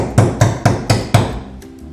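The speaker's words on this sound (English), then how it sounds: "Don't be afraid to tap some of them in with whatever you got handy." Screws tapped in through carpet for livewell vents, five sharp evenly spaced hammer-like knocks, close and loud, with a faint hum left at the end.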